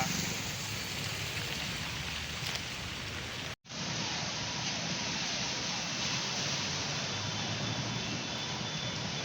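Steady, dense roar of heavy rain pouring continuously in Kanagiri town, flooding the road, with a brief dropout partway through before the downpour resumes at full strength.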